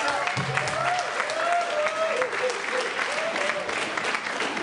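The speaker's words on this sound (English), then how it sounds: "How about a big round of applause for all the performers we had tonight?" A party audience applauds the evening's performers with steady clapping and a few cheers, moderately close, while a voice speaks partly over the applause.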